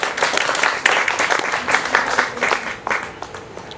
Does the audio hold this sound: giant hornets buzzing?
no